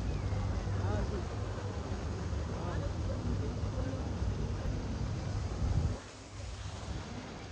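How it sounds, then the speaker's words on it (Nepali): Water runs steadily into a pond at Dubai Miracle Garden, a flower park, making a continuous rushing wash that cuts off abruptly near the end and leaves a quieter outdoor background with faint voices. "और यहाँतिर पानी आइरहेको।"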